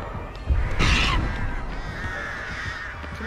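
Crows cawing in the horror game Dead by Daylight: a loud, harsh caw burst near the start, then fainter rasping caws trailing off.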